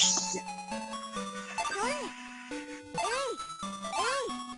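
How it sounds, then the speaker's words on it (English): A phone or clock alarm plays a repeating electronic chime melody of bright tones and gliding notes, loud and close, cycling several times in a row. "That was my alarm."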